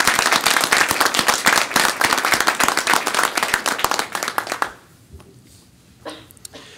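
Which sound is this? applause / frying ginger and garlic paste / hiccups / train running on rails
applause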